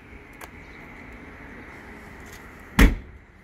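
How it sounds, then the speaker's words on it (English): A storage drawer on a 2022 Forest River Sierra 391FLRB fifth wheel RV slides shut and locks with one sharp, loud thump near the end, after faint clicks over quiet background hiss. "We're going to slide it back in, lock it back into place."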